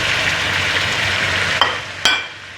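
Chicken frying in a pan with spices makes a loud, steady sizzle up close, broken near the end by two sharp utensil scrapes or taps.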